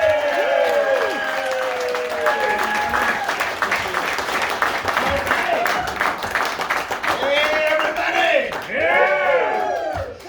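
A comedy club audience at the World Bowl Super Series of Comedy applauds and cheers loudly for comedian Frank Roach, with whoops and shouts rising over dense clapping.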